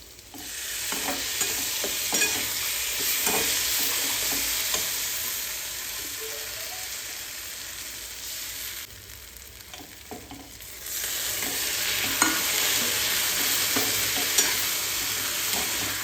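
Chutney mixture fries and is stirred in hot oil in a pan, a steady close sizzle with repeated scraping stir strokes throughout, briefly quieter partway before the sizzle returns.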